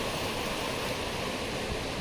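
Perumbankuthu waterfall near Mankulam, beside a dam, gives a steady broadband rush of falling water that stays loud and even for the whole stretch, with no voices over it.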